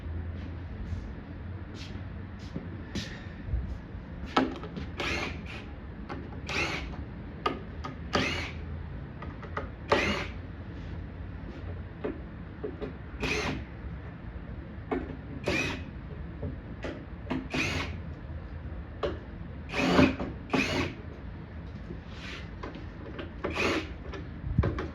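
Phillips screws come out of an arcade cabinet during restoration, giving a series of short, irregular ratcheting clicks and squeaks from a nearby screwdriver against a faint background hum.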